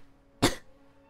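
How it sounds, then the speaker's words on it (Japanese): One short, sharp cough stands out against quiet background. "咳が。"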